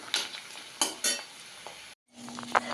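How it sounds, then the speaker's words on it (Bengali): Papad frying in oil in a home kitchen, with short bursts of crackling sizzle and light utensil clinks against the pan, a brief silent gap, then quieter frying with another clink. "আমি তার জন্য পাঁপড় ভাজতে এসেছি আর ডিম ভাজবো"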